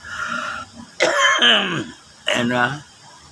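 Two bursts of coughing from a person, each a rough, loud cluster of throat-clearing coughs heard up close, separated by a short pause, with faint talk before the first.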